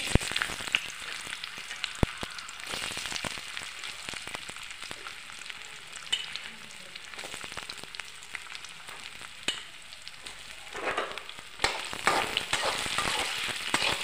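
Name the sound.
sautéing sabudana khichdi ingredients in oil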